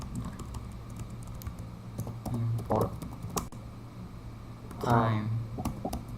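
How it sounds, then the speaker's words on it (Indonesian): Computer keyboard keys tapped in a few short bursts while entering a line of Python code, close and fairly soft, under a person talking. "kita ketik import time"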